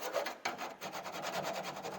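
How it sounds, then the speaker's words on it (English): A small hand file works the high spots and sharp edges left by a drill bit, making a steady, close, rasping back-and-forth rub of even strokes with no talking. "I'm going to use a small file just to get some of the high spots off that the drill bit might create"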